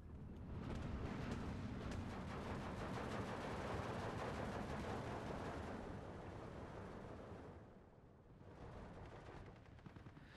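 Battlefield fire in the video game Steel Division 2, with artillery and mortar rounds forming a dense, continuous rumble of distant blasts and crackling shots, with no voices.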